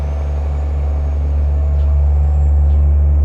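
Kenworth W900A truck in American Truck Simulator, heard from inside the cab with the windows up: a loud, steady low engine drone with a faint high whine, continuous and muffled, alone.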